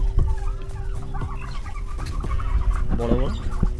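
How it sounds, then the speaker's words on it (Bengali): Chinese hens clucking at a resort farm enclosure shared with ostriches, several short overlapping clucks and calls scattered across steady outdoor background noise. "এগুলো হচ্ছে চীনা মুরগি"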